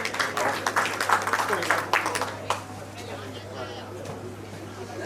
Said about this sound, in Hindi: बहुत जोरदार तालियां एजाज सादिक साहब के लिए आप बजा दें।